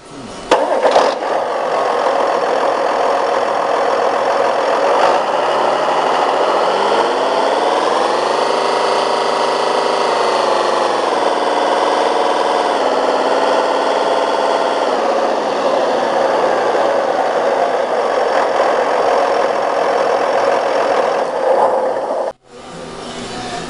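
A John Deere 8410A tractor engine idles loudly up close, its pitch swelling and easing as the revs rise and fall before it stops suddenly near the end.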